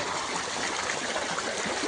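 Rainwater rushing along during heavy rain, a brief steady broadband gush that stays even and close throughout with no talking.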